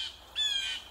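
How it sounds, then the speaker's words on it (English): A single harsh, nasal blue jay call, one short squawk lasting well under a second, heard clearly and fairly close against quiet outdoor background. "Blue jay."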